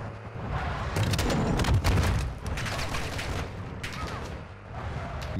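Rapid gunfire crackles in the shooter Call of Duty DMZ, with repeated loud sharp bursts over a constant, heavy background and a short lull before more shots.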